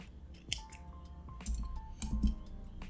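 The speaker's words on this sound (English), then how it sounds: "Okay, and just cut it off a little bit." Scissors snip crochet yarn on a small dog birthday hat, a few quiet, crisp close cuts spaced apart over a faint background, with no voices.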